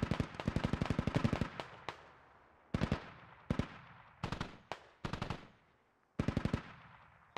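A machine gun fires in a military video game, loud close bursts of rapid shots, one long burst then several short ones separated by brief pauses.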